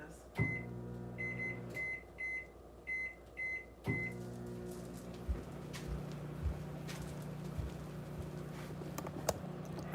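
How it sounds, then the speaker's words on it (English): A microwave oven runs with a steady low electronic hum while thawing frozen chicken stock, preceded by a series of short button beeps and a door clunk, with occasional knocks and handling noises over the continuous drone. "I'm gonna put that in the microwave for about 30 seconds."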